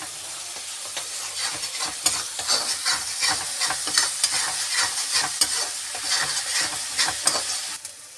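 Close sizzling and crackling of ginger garlic paste frying in a hot pan, with scraping stirs pulsing through the steady hiss.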